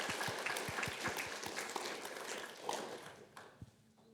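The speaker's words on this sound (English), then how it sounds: "can we have a round of applause?" Students in a university algorithms lecture give a round of applause, a faint, brief patter of scattered claps that thins out and fades within a few seconds.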